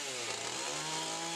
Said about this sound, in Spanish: estaba con mi motosierra y empezamos a tallar